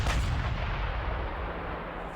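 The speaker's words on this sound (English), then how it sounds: "Taking heavy artillery barrages." Heavy artillery barrage in the wargame Panzer Campaigns: a dense, continuous rumble of booming impacts that stays loud throughout, with no voices.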